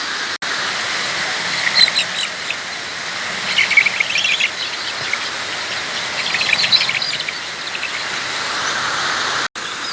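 Baby chicks peep in a steady chorus of thin, high cheeps as they are moved into a car wheel rim for warmth during the cold rainy season, with a constant hiss of rain-like noise underneath.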